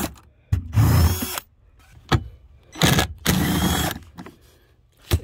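Power drill working a 10 mm screw while fitting a tow hitch wiring harness on a 2018 Toyota Sienna: two loud, close bursts of whirring, each lasting about a second, separated by short sharp clicks.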